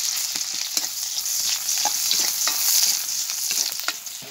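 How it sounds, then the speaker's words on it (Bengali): Onion and green chili fry in hot oil in a wok, a close, steady sizzle broken by repeated scraping stirs of a spatula, with no talking. "পেঁয়াজ আর কাঁচামরিচ দিয়ে আমি ভাজি লইয়ে"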